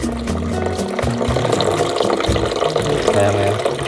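Water gushing and filling a container outdoors on a mountain morning, a loud continuous splashing pour with rising gurgles, with voices faintly under it.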